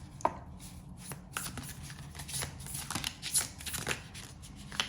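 Tarot cards being shuffled and drawn from a deck, soft close riffling and flicking of cards with scattered taps and slides, fairly quiet throughout.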